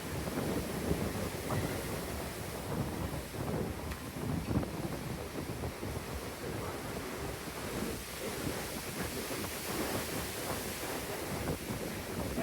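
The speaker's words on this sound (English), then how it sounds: "Bit windy today." Steady wind gusts buffet the microphone at a seafront restaurant in Hua Hin, a constant rushing roar mixed with distant surf, with no talking.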